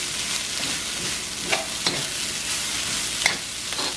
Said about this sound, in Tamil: நல்லா மிக்ஸ் பண்ணி லைட்லியா வறுத்திருக்கிறோம்